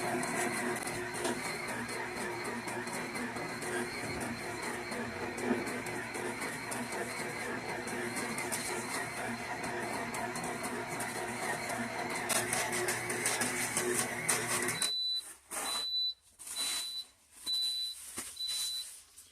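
An electric stand mixer with a dough hook kneads potato flake sourdough bread dough, a steady close motor whir that stops near the end, followed by a few short electronic beeps in the quiet.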